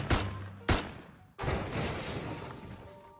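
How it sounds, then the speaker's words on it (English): Several gunshots ring out in the video game Love and Deepspace, three sharp loud cracks, each trailing off into a long reverberant decay, with no speech. "Suddenly, several gunshots ring out, piercing my eardrums."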